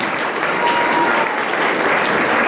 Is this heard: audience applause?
yes